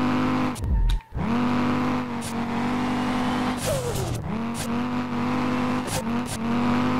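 A car engine in the SLRR racing game revs and holds a steady high drone while drifting, dipping sharply around one second and swinging in pitch as the throttle lifts and rises, with brief sharp bursts.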